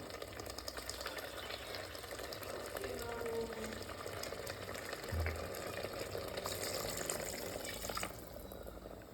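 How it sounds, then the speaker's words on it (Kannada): Water poured into a pot of chicken biryani with mixed rice, a steady liquid rush over kitchen sizzle and background noise, continuing for several seconds before easing. "ಅಳತೆಗೆ ತಕ್ಕಷ್ಟು ನೀರು ಹಾಕ್ತೀನಿ"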